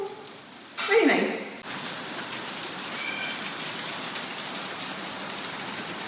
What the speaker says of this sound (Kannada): ಫುಲ್ ಜೋರಾಗಿ ಮಳೆ ಬರ್ತದೆ ಅವಾಗಿಂದ